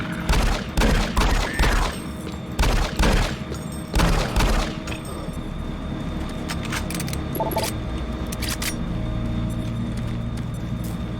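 Enemy gunfire in the Doom 3 video game, loud bursts of rapid shots in clusters during the first few seconds, then a lower rumbling game ambience with scattered faint clicks and metallic noises.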